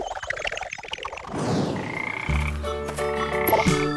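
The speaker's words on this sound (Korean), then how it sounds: "청개구리" A tree frog croaks in a children's animal cartoon, a loud run of close, tonal croaks that fills the second half after rustling, busier sounds.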